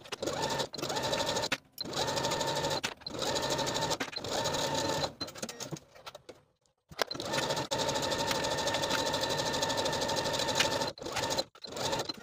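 A sewing machine stitches a seam along the short edge of a knit dress belt, running in long steady bursts of rapid mechanical whirring broken by brief stops, close and continuous.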